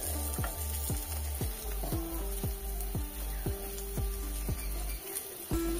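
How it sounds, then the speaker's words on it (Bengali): Bitter gourd fries slowly in a lidded pan over low heat, giving a steady soft sizzle and crackle, close and moderately quiet, with no talking. "এইভাবে একই রকম ভাবে আমি ঢাকনা লাগিয়ে খুব সুন্দরভাবে ভেজে নিচ্ছি একদম লো আঁচে"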